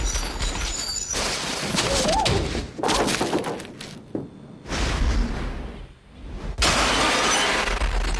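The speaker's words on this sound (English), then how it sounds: "We wanted the glass to explode in sort of an ever-expanding circle" Window glass bursting outward in an expanding circle for a film effect, heard as loud, broad crashing and shattering bursts in several waves with brief gaps, dense and near throughout.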